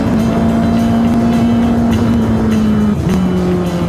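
A race car screams past at high speed on the Monaco Grand Prix street circuit, its loud, steady engine whine holding pitch before dropping briefly as it shifts, continuous and close.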